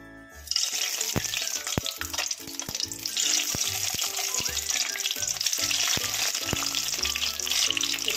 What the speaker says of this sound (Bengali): আর ডিমগুলো কিন্তু এবারে হালকা একটু ফ্রাই করে নেব